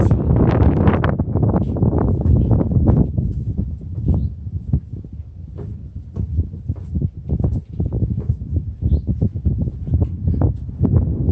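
Gusty wind buffets the microphone on the Green Knob Trail to the lookout tower in Pisgah National Forest, North Carolina, a loud, steady low rumble over rhythmic footfalls and scuffs of a hiker descending, with no speech.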